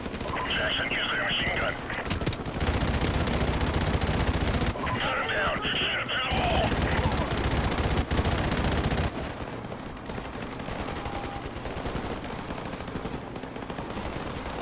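Rapid bursts of automatic gunfire and scattered shots crackle through a night battle in Call of Duty 4 Remastered, dense and loud for most of the stretch before easing into quieter background combat.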